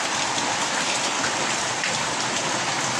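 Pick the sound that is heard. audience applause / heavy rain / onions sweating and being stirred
heavy rain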